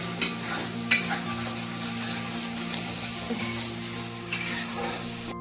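Onion, garlic and green chili fry in a pan, giving a steady close sizzle with a few sharp utensil knocks near the start; no talking.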